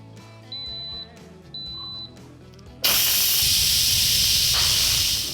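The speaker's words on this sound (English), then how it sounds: "we're gonna seal this up and we're gonna pressure cook this" A pressure cooker beeps twice as it is set, then lets out a sudden loud rush of hissing steam that goes on steadily to the end.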